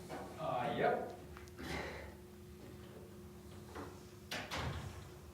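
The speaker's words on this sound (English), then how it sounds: "and you want to close the door?" A door slides or swings shut with a muffled thump and rattle partway through, fairly faint in a quiet room, while people talk briefly before and after it.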